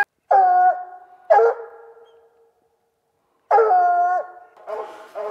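Hunting dogs bay and howl in long, drawn-out cries, with two separate bursts and a quiet pause between them. A shorter yelping call follows.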